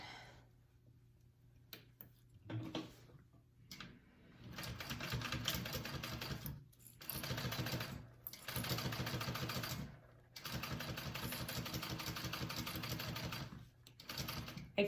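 Sewing machine topstitching a vinyl shoulder bag at a quarter-inch seam allowance, running in rapid mechanical bursts of several seconds each, separated by short pauses as the work is stopped and adjusted.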